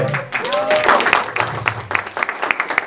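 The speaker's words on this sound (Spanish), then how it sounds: "unas palmas para él, por favor" An audience at a business presentation breaks into brief applause, a rising patter of claps that thins into a few scattered claps, with a voice heard near the start.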